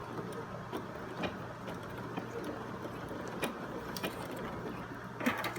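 A sewing machine stitches a denim back pocket on homemade blue jeans. It makes a faint, steady mechanical whir with light ticking clicks throughout.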